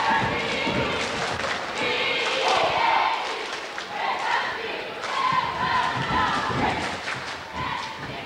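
High school basketball fans in a gym at a 1995 M.E.H.S. versus Sitka game roar and yell loudly and continuously, with thuds and shouted voices mixed into the crowd noise.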